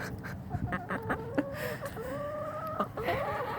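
Backyard hens, some of them molting hard, cluck in a steady run of short calls through a cold November coop in Alaska, close by and fairly loud, with no talking.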